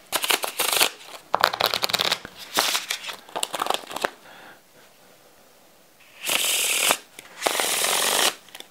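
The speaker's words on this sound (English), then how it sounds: "see how they do with dealing and shuffling and things like that" A deck of Wes Barker 2nd V1 playing cards is riffled close up in repeated bursts. Each quick shuffle is crisp and loud, separated by short pauses, with a couple of longer riffles near the end and no talk.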